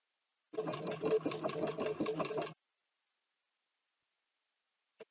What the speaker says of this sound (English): So now I'll go ahead and continue sewing all the way down to the end.